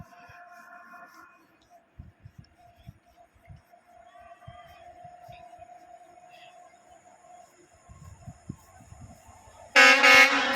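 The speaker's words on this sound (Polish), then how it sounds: "Jedzie pociąg towarowy" A freight train rolls by at a station, heard mostly as a faint, distant low rumble with scattered clanks, before a sudden loud horn blast sounds close in the final second.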